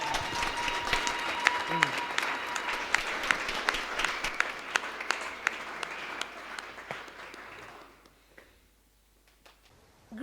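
Church congregation claps hands for Jesus, a lively run of distinct claps with voices mixed in, gradually fading out near the end before a brief burst of sound.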